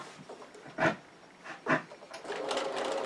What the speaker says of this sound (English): So my machine is all threaded up and ready to go.